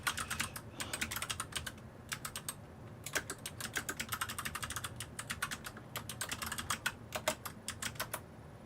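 Rapid typing on a computer keyboard, with close, crisp key clicks in quick bursts separated by short pauses and a quiet room hum underneath.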